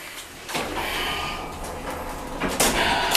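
A hydraulic elevator door slides shut with a broad rushing scrape, then a firmer thud and rattle near the end, close by and fairly loud.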